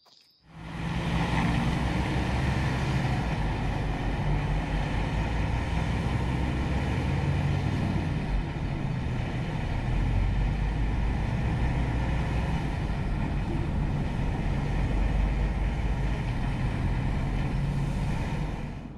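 An Iveco S-Way 510 hp rigid truck drives along, its engine and road noise forming a steady, loud, continuous drone with low rumble throughout, no voices heard.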